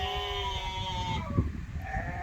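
A sheep on a wool farm gives a long, wavering bleat, then a shorter second call, over soft rustling and background noise.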